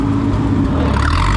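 A car engine pulls steadily in second gear, a loud, continuous close-up drone heard from inside the vehicle, with no talk.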